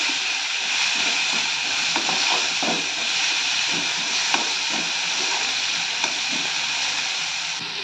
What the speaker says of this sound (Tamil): அடுப்பை சிம்மில் வச்சு வதக்கிக்கலாம்